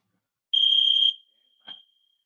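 A workout interval timer gives one sustained high electronic beep lasting about half a second, then a much shorter, quieter blip follows, loud and close with no talk.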